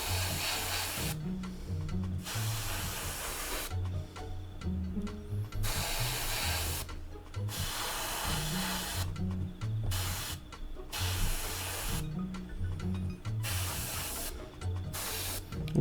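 Airbrush spraying paint on a model F4U Corsair in repeated bursts, a steady hiss that starts and stops every second or two, with a faint low hum beneath.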